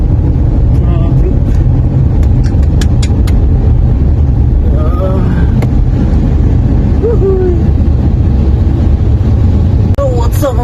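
Car driving through road traffic, a steady loud engine and road rumble from inside the vehicle, with faint distant horns and other vehicles passing, and someone talking over it.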